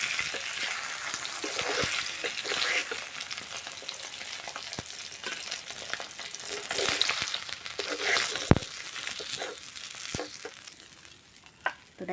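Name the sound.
fish head frying in oil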